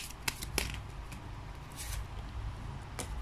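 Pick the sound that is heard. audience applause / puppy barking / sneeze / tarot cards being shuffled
tarot cards being shuffled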